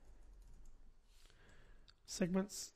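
Code typed on a computer keyboard: a short cluster of crisp, close key clicks near the end, following quieter moments with a voice speaking faintly.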